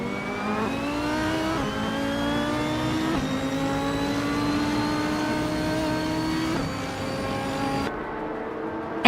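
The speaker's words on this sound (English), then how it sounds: "the race is kicking off at Istanbul Park, and starting on pole is S-Davin Games" Race cars in an LMP3-class video game race at Istanbul Park, including a 2016 ADAS-03 Nissan, engines revving and climbing through gears in several rising sweeps, loud and continuous with no talk.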